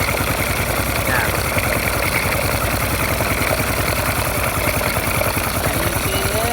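A restored motorcycle engine idles steadily for its first run after restoration, with a continuous, even low pulsing throughout.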